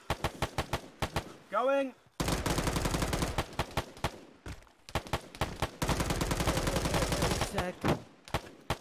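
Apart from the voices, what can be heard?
gunfire in a video game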